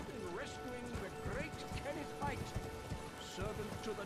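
Rhythmic hoofbeats of a galloping horse in Elden Ring, layered with game music, and a voice talks over it throughout.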